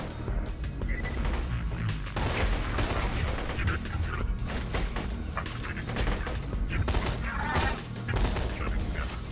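Dense, rapid gunfire from shooting enemies in the video game Borderlands 2, bursts rattling almost without pause over a busy game soundscape.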